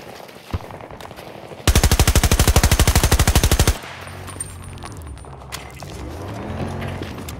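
A deployed sentry gun in the Battlefield video game fires one sustained rapid burst of about two seconds, loud and close, preceded by a single sharp shot and followed by quieter mechanical clatter.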